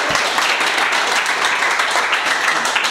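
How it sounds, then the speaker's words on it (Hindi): Sustained audience applause at a mobile shop training talk, many hands clapping in a dense steady wash at fairly close range with no voices over it. "एक बार जोरदार तालियां।"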